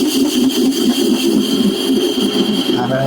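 A small lathe parts off steel, giving a steady motor drone with a sustained whining cutting tone, loud and close.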